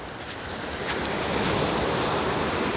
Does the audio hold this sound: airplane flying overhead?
no